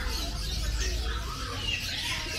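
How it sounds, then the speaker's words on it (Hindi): Birds call at a private zoo in Karachi, where ducks are kept, giving a steady mix of clucks and chirps over a constant outdoor rumble. "वो देखें बतख।"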